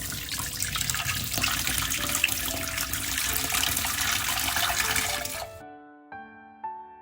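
Clean water poured into a pot of soup ingredients — black beans, tufuling root, honey dates, red dates and dried tangerine peel — a steady close splashing stream for about five seconds, then stopping into a few small drips.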